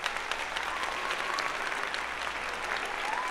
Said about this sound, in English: I have applause for you